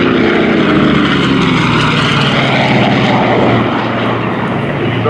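World War II propeller fighter planes fly a missing man formation at a wartime commemoration weekend, their loud, steady engine drone filling the air throughout without any break.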